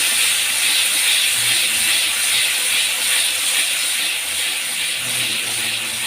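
Ground spice paste frying and being stirred in a pan while cooking fish head with potato, a steady close sizzling hiss running throughout with faint scraping from the stirring.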